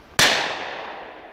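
A single loud shotgun report on a beaters' day shoot in fading light, a sharp crack followed by a long decaying outdoor echo.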